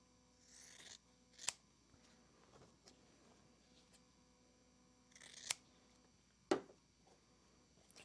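A few sharp snips of scissors trimming quilt fabric corners, spaced apart with quiet pauses between, close and fairly soft.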